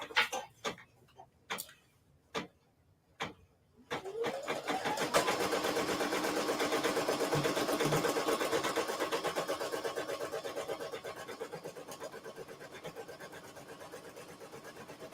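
A Brother SE1950 embroidery machine begins stitching after a few beeps from its buttons, then runs with a fast, steady rhythmic ticking and whirring that stays close and continuous, easing slightly in level toward the end.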